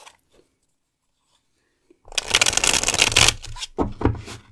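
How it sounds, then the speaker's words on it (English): Tarot cards being shuffled by hand during a card reading, a close, crisp riffling burst of a couple of seconds that breaks off, then resumes more briefly after a short quiet stretch. "let's shuffle your tarot cards."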